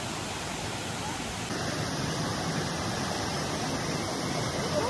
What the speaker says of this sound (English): So we have to cross the river.